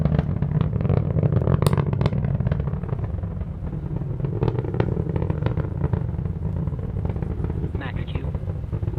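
A SpaceX Falcon 9 rocket in flight about a minute after launch roars as a steady, dense rumble, with a voice talking over it the whole time.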